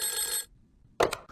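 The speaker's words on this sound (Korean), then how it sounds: "일반 전화로 이종석 장관에게 전화가 갑니다" A landline telephone rings with a short electronic ring burst after a quiet pause, preceded by a bright tonal ringtone-like passage, close and clear with no speech.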